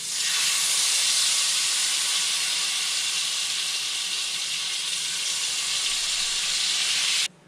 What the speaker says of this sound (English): heated that up, and we're just going to cook our fish